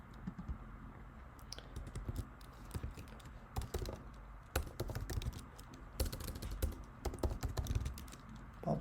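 Computer keyboard typing as Java code is written, irregular bursts of clicky keystrokes with brief pauses, close and fairly quiet, no voices.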